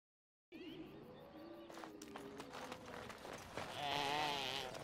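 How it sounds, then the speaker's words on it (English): Halla animals in the Dragon Age video game give goat-like bleats, several wavering calls in fairly quiet succession, with a louder cry near the end. "Well, they sound like goats, but they've got these amazing horns."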